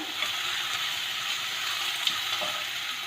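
Turmeric-spiced masala frying in a pan for a carrot kofta curry, a steady close sizzle and crackle of hot oil that runs without a break and with no voices.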